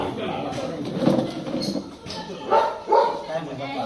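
A dog yips and barks a few times amid people talking nearby, the barks short and sharp near the end.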